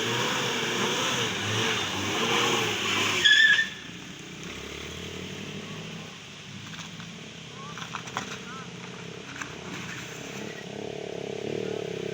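Vehicles, including cars and motorbikes, labour over a slippery collapsed road section at Karang Anyar Sirampog, with engines revving loudly at first, then falling to a lower steady rumble with scattered clunks and faint traffic.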